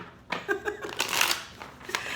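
Tarot cards are riffled and shuffled in quick bursts of crisp flutters and slaps, close and fairly loud, lasting about two seconds.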